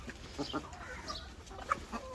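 Chickens cluck softly while eating greens and feed outdoors, scattered short clucks with one sharper call, fairly faint over background noise.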